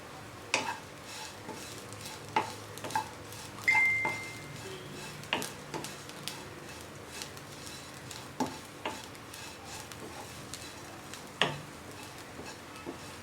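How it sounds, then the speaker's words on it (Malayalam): Two beaten eggs scramble and fry in coconut oil in a pan for a drumstick leaves egg stir fry, with a low steady sizzle under repeated sharp scrapes and clinks of a spatula against the pan. "ഇതിലേക്ക് അടിച്ചു വെച്ചിരിക്കുന്ന 2 മുട്ടയും കൂടി ചേർത്ത് ഒന്ന് നന്നായിട്ട് ചിക്കി വറുത്തെടുക്കണം."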